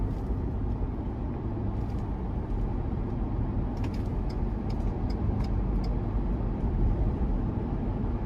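Steady low road roar of mud-terrain tires heard from inside the cabin of a 2023 Ford Ranger Lariat Tremor with a 2.3 turbo four-cylinder, a continuous broadband hum with faint rattles and clicks above it.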